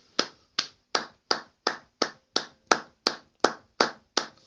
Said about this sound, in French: Acclamons pour la lecture de Dieu.